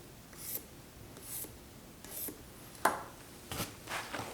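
A pencil scratches lines across a soaked whetstone in short, faint, separate strokes with brief pauses between them, close by and quiet.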